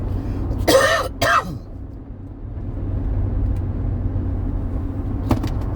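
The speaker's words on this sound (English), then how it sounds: "Yeah, I'm driving." Inside a moving car on a cold day in South Carolina, a low steady road rumble and engine drone fill the cabin, with a couple of brief coughs or throat clearings early on and a short sound near the end.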